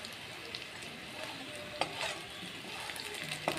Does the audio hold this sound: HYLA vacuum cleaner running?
no